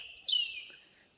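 Birds call along a deserted grassland route through forest: one brief high, sweeping chirp, faint and somewhat distant, fading within a second against quiet background.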